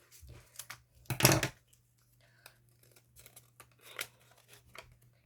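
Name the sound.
folded paper being cut to size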